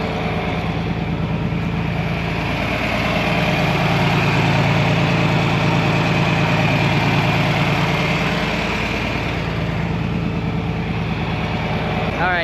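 A John Deere 4000 tractor with a disc mower attached idles loudly and steadily up close, its low rumbling engine running without a break.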